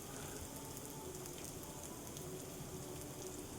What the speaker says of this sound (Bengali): কাঁচা লঙ্কাটাকে দিয়ে আবার বেশ কিছুক্ষণ নাড়াচাড়া করে ভেজে নেব।